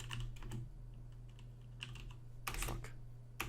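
Fast, uneven clatter of typing on a new computer keyboard, bursts of close key clicks with brief pauses between them.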